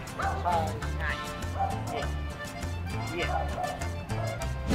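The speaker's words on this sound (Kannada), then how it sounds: "ಈ ಕಡೆ ತಿರುಗಿದ್ರೆ ನಾಯಿ ಬಂದ್ ಪಕ್ಕದಲ್ಲಿ ನಿಂತೈತೆ" A dog in a slum in Vietnam yips and whimpers in short repeated bursts under steady background noise and faint talk.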